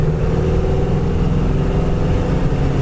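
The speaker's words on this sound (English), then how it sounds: "Even in fourth gear, you punch it down," A 1972 Pontiac LeMans with a 389 V8 and a four-speed pulls hard in fourth gear from about 60 mph, giving a steady, loud, close engine roar with no talk over it.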